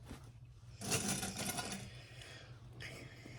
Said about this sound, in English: So we're just gonna stitch it together really nicely.